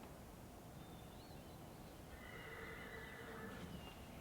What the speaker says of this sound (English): Cue the horse.